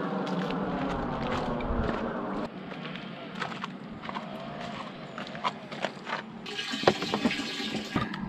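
Water runs from a grand roadside tap in a Turkish mountain village and fills plastic bottles. The pour is close and steady, its pitch shifts as the bottles fill, and handling knocks and a bottle swap break in midway.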